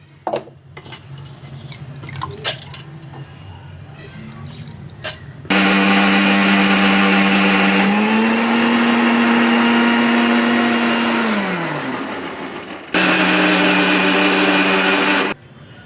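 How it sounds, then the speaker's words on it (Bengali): Electric mixer grinder pulverising soaked black gram dal, starting with a few clinks and handling noises, then a loud, close, steady whirring roar that slows and stops before a second burst of grinding. "আমি আগে ডালটা বেটে নিই।"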